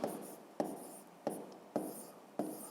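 Handwritten numbers going down on paper during a fifth-grade maths exercise, heard as five short, crisp pen or chalk strokes spaced about every half second, close and quiet with no talking.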